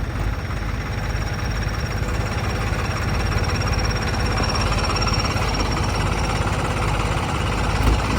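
A 3630 tractor, stuck deep in waterlogged ground, runs its engine in a steady, loud, unbroken chugging drone that holds evenly throughout.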